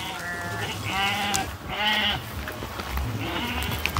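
A goat bleats three times in close succession, each a loud, wavering call with a pause between, over a steady outdoor background.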